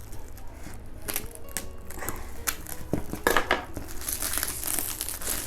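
Polythene and bubble wrap packaging crinkles and rustles as it is pulled open by hand, close and fairly loud, in irregular bursts of crackling with a few sharper snaps.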